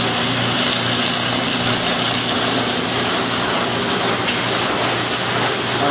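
A Rollem 990 ETR printing machine with a deep pile feeder and blower runs steadily at close range, a loud continuous mechanical drone and hiss with no pauses.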